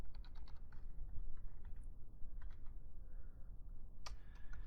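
Code is typed on a computer keyboard, with quick irregular bursts of crisp key clicks and short pauses between them, fairly close and with no talking over it.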